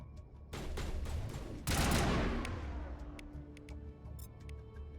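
Enemy shotgun blasts in Mass Effect, a burst of loud, close gunfire with several sharp reports crowding together, then fading into scattered lighter clicks and pops.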